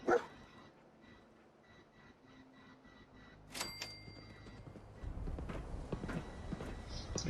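Dogmeat, the dog companion in the video game Fallout 4, gives a short bark right at the start, then quieter whimpering yips over game ambience, soft footsteps and a fuller rumble toward the end.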